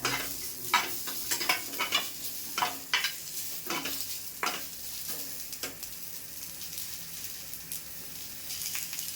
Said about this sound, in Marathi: कांदा भाजून घेते कांदा छान आता लालसर भाजून घ्यायचा